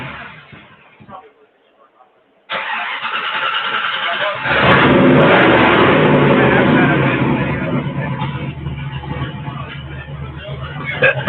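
A car engine with no mufflers cranks and fires, then settles into a loud, rough idle that swells briefly before easing back, with people talking nearby.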